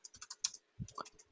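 A burst of quick keystrokes on a computer keyboard entering a Terraform command, a dozen or so light, irregular clicks close to the mic with a couple of heavier thumps near the end.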